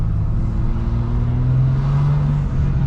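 A BMW M2 accelerates with light throttle. A steady engine drone rises in pitch with a faint turbo whir, close and continuous for a few seconds, with no talk.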